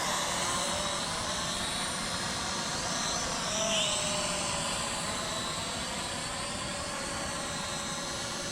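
A Sanrock X105W quadcopter drone hovers nearby with a steady high-pitched whirring buzz of small propellers, a slight pitch wobble as it drifts, loud and continuous with no talk.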